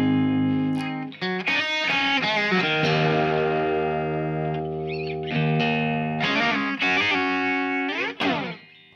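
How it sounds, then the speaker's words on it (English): Electric guitar played through a Fractal Axe-Fx amp model with a small room reverb, loud and sustained with ringing chords and single-note lines, some bent notes, and a few brief pauses between phrases, with no talking. "you can hear it in the sound. I've got a small room reverb."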